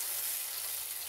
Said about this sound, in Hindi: अब इसको हम अच्छे से भूनेंगे